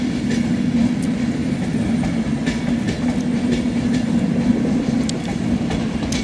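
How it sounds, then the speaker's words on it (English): An Avanti West Coast train leaving Manchester Piccadilly station, a loud steady rumble of rolling stock with faint clicks of wheels over rail joints, close by and without speech. "Okay, leaving now. It's on the Avanti West Coast."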